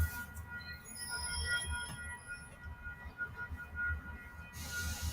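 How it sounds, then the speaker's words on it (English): A train passes beside a station next to a bus depot, a low, steady rumble with faint wheel hiss and squeal, heard quietly from a short distance without talk. "Wait for the train to pass."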